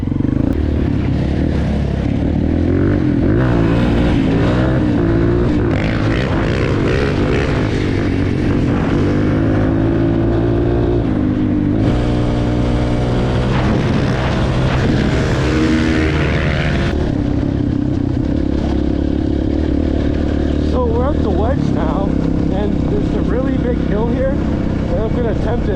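A 450 dirt bike ridden on a trail, its engine revving up and down in rising and falling sweeps, loud and close throughout, with a voice heard now and then.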